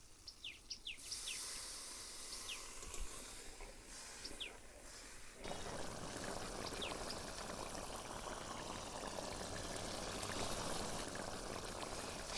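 Water is poured into a snail curry cooking outdoors, a soft steady rush that starts partway through and continues over faint birdsong and quiet ambience.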